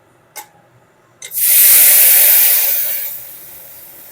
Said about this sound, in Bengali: এরপর এর মধ্যে ঢেলে দেব সেদ্ধ করা লাউ আর ডাল